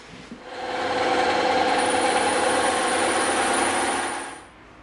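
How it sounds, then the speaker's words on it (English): A bandsaw runs steadily through a thick block of EVA foam, making a continuous, fairly loud whirring buzz for about four seconds before winding down, with no talking. "we're going to stand this up and we're going to go through the bandsaw to cut these off"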